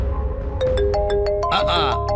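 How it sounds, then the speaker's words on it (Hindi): A ringtone-like electronic tone pulses in short repeated beeps over a low background hum, with a brief musical flourish near the end. "देखा, फोन भी बजने लगा।"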